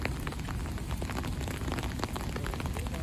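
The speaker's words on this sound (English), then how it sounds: "As you guys can hear, it's raining really hard now." Heavy rain pouring down in downtown Chicago near the Bean sculpture, a dense, continuous patter and splash of drops hitting surfaces, loud and close with no break.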